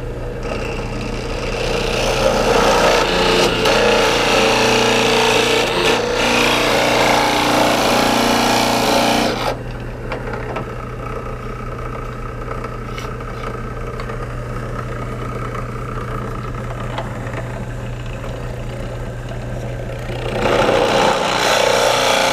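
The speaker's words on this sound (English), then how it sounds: "you want to drill halfway through one side and then flip it over" Power drill boring through a block of wood with a 7/8-inch bit for a homemade fidget spinner, a loud continuous grinding whir that drops to a lower steady hum midway, then swells again near the end, close by, no voices.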